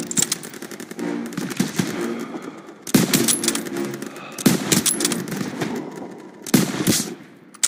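Rapid machine gun fire in the Call of Duty WW2 campaign, several loud bursts of automatic shots in quick rhythm separated by short pauses, with game battle noise between them.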